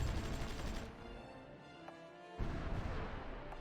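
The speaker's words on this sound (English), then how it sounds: "Oh, we're bombarding there as well." Artillery bombardment in the strategy game Supreme Ruler Ultimate, heard as a dense rumble of distant booms and gunfire that eases off midway, then surges back loudly with no talking over it.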